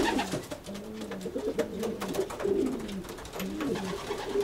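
Racing pigeons coo repeatedly in a loft, with low throaty rolling calls overlapping at a steady, close, moderate level throughout, and no one speaking.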